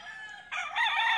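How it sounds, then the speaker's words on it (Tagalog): A single rooster crows loudly and close by, one short bright cock-a-doodle call rising after a faint lead-in. "napakagwapong manok yan"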